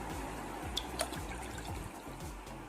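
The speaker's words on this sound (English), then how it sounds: "Firstly, we will add milk into the glass of water." Milk pours quietly into a glass of water, a soft low trickle and gurgle of liquid with a couple of small clinks, faint and close.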